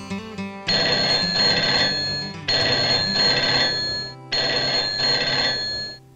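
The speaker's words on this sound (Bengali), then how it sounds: "ও আর ফোন আসার সময় পেল না, দূর।" A cartoon telephone rings in three long, loud bursts separated by short pauses, with a few quick tones at the start and no one speaking.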